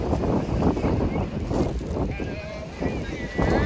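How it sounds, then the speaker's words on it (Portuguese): Strong wind buffets the microphone outdoors in Barcelona, a steady loud roar with gusts throughout, while someone talks over it. "Tá ventando muito aqui."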